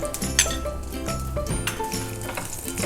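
Green chilies and white sesame seeds frying in a pan for dhokla tempering give a busy, crackling sizzle with a few utensil clinks against the pan, heard close under background music.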